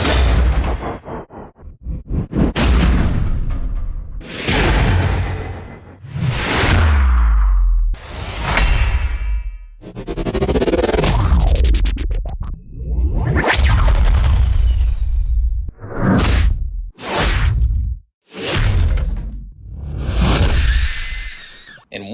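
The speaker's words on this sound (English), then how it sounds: "I have a heavy projectile that is like whooshing through the air, and then it makes a heavy impact." Sound-effect library samples of a heavy projectile whooshing through the air and slamming into a heavy impact, a loud series of sweeping swishes each ending in a booming hit, separated by short gaps.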